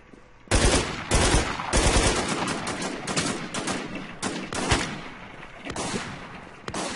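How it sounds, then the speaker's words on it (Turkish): Pump shotgun gunfire in the video game RigorZ, several loud close blasts in quick succession with sharp bursts and rolling echo between them. "Oo, pompalıyla vurdu bizi."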